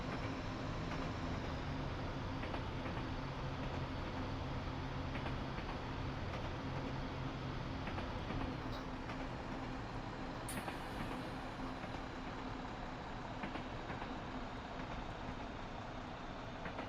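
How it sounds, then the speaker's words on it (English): In a train simulator game, a steady, continuous rumble of rolling train wheels and engine drone carries throughout, with faint clicks and a brief high-pitched tone partway through. "I think I see a train coming up there."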